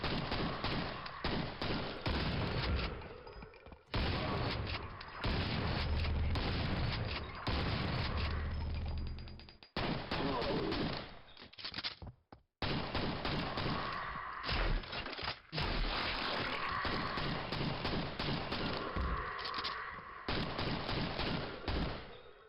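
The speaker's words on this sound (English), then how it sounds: "The Devastator. That's the dual wielding, like, mini rocket launchers," Dual mini rocket launchers, the Devastator, firing in Quake: a dense, nearly continuous barrage of rapid blasts and thumps with brief pauses, loud and alone with no talk.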